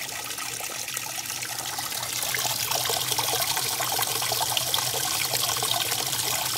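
Water runs steadily into a washing machine tub as it fills around the agitator, a continuous close trickling rush that grows slightly louder and fuller partway through, with no voices.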